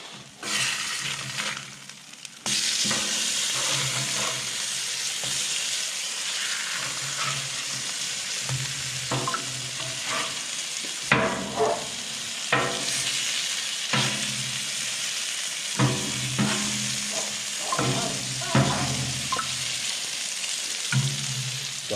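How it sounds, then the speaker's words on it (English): Burgers sizzle on a Blackstone griddle inside a garage, a steady bright frying hiss with occasional scraping and stirring sounds, close and alone without talk. "I'm out here in the garage frying up some burgers on the Blackstone."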